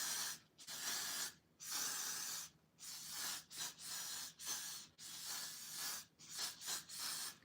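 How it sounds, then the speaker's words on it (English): Hairspray misting onto a synthetic wig during an install, a series of about eight close, soft hissing bursts of varying length separated by brief pauses, with no speech. "I'm just gonna add a little bit more hairspray."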